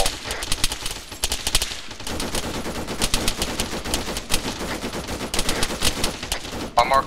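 Rapid bursts of automatic gunfire crack and rattle in ARMA 3, loud repeated volleys and single shots filling the whole stretch with no talking.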